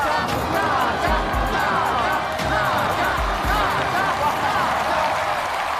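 A television studio audience breaks into sustained applause to welcome the actress Nazha, a dense, even wash of clapping mixed with scattered voices and cheers that holds steady throughout.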